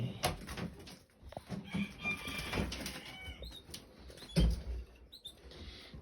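Canaries in an indoor bird room flutter their wings in short scattered bursts, mixed with thin chirps and small rustling sounds at close range.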